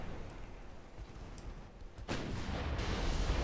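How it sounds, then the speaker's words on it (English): Torpedo detonation aboard a warship in the naval strategy game Ultimate Admiral Dreadnoughts, a low rumbling background that erupts midway into a louder, sustained explosive roar that keeps rolling to the end. "We had a torpedo detonation. We just lost all our torpedoes. They exploded."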